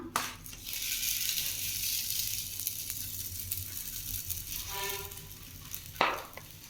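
Flattened aval (beaten rice) dough sizzles and crackles on a hot pan, a steady close frying hiss with scattered sharp ticks and a few scraping knocks, no voices over it.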